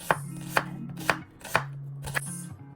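Knife chopping onion on a cutting board in a home kitchen, six crisp evenly spaced chops, close and clear with no talking.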